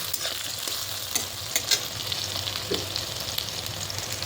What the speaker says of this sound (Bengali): তো হালকা হালকা ভাজা হচ্ছে